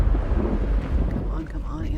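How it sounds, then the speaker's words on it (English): Thunder from a storm scene in a disaster film, a deep low rolling rumble that swells and fades over two seconds, loud and close with a windy wash, with no talking. "Thunder really freaks me out."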